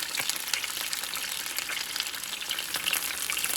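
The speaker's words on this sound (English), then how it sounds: "Our oxtails are browning really well" Oxtails browning in a hot pan for smothered oxtails give a steady, close, loud sizzle and crackle of frying fat, with small pops scattered throughout and no talking.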